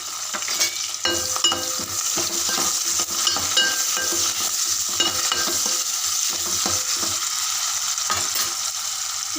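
Onions and green chillies sizzle steadily in hot oil with whole spices, cinnamon, cloves and star anise, while a spoon scrapes and stirs the pan in irregular clinks close by; no one speaks.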